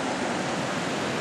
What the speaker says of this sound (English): So nice set of rapids.